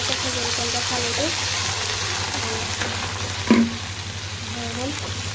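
Ginger garlic paste fries in hot oil with a continuous sizzle and faint stirring scrapes, while a voice talks quietly over the cooking.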